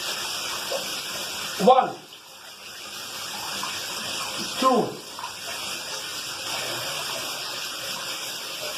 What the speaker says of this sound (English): You open up the shower, do like that.